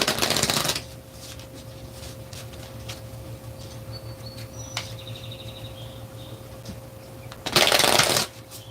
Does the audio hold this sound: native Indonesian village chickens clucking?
no